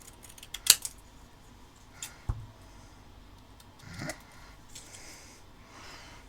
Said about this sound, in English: I find if you use the scissors with a longer blade, cutting freehand is not nearly so scary